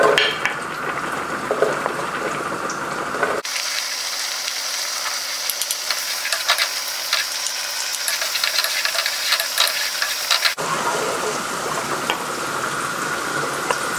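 Onions sizzling and frying in a hot pan for shrimp scampi pasta, a steady hissing crackle that swells louder through the middle and settles back to a softer sizzle, with no talking.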